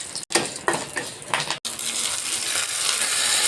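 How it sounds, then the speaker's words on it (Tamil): Mustard seeds hit hot oil for a coconut chutney tempering, a few light clinks followed by a steady, close sizzling crackle that keeps building. "இவங்களுக்கு ஒரு சின்ன தாளிப்பு வச்சுருவோம். கடுகு போட்டுக்கிடுவோம்."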